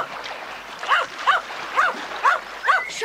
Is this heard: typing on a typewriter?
no